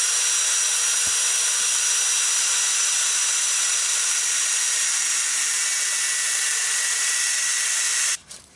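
A power tool cuts steadily through a car part during a turbo build on a Volkswagen Voyage, giving a loud, continuous hissing grind for about eight seconds that stops abruptly near the end.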